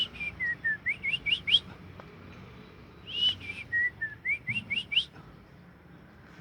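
Caged songbird answering a whistled female call, giving two bursts of rising, slurred whistling notes in quick runs, clear and fairly close against a quiet outdoor background.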